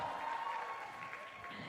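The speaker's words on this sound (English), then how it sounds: "another round of applause for the first four teams that opened the show" Championship show audience applauding the opening teams at Origins 2023, a sustained, moderately distant round of clapping with a thin steady tone running underneath.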